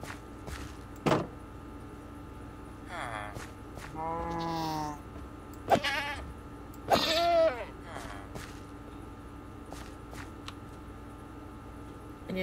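Goats and sheep bleat in Minecraft, with several drawn-out, wavering cries spaced apart over a quiet game background, mixed with clicks and short thuds.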